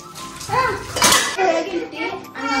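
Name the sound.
washing dishes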